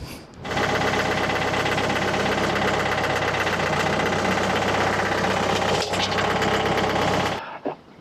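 A loud, close tractor engine chugs steadily for several seconds beside a sawmill, then cuts off abruptly near the end.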